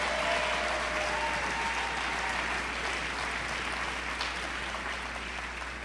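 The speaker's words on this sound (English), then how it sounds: "let's give all of the staff that was involved a round of applause." A crowd applauds school staff at a South Oak Cliff celebration, steady dense clapping that holds at an even level throughout, fading only slightly toward the end.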